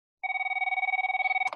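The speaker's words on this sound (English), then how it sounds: "my phone keeps ringing" A phone rings nearby with a steady electronic trill that pulses rapidly for over a second and then cuts off abruptly.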